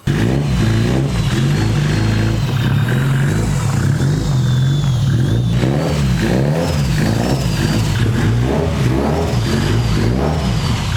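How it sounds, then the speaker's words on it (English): A Nissan S14 Kouki drift car with a new intercooler runs loud and close, its engine droning and revving in rough pulses with clattering mechanical noise throughout, and no talking. "I should be right to start it up and move it into the garage now"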